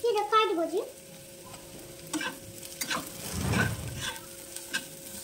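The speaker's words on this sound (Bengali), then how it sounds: "সবজিগুলো ভাজা হয়ে গিয়েছে" Vegetables with chopped capsicum are stir-fried in a pan, giving a soft sizzle with a few spatula scrapes and stirs, one longer louder stirring burst near the middle, and no talking.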